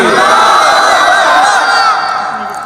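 A large rally crowd shouts Allahu Akbar in unison in response: a loud, sustained collective roar of many voices that holds steady and then slowly tails off.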